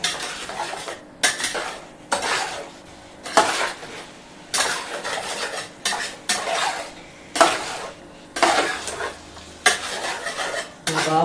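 Chicken pieces mixed with oil, turmeric and salt in a metal dish, heard as repeated scraping and clinking strokes of a utensil in a steady rhythm, close and clear, with no talking.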